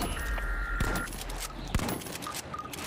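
Gunfire in The Finals cracks out in a few sharp, loud shots over continuous game noise and scattered metallic clinks, irregularly spaced rather than a steady burst.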